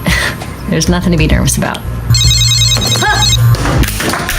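A phone's ringtone chimes for about a second and a half, a bright electronic trill heard over someone speaking close up.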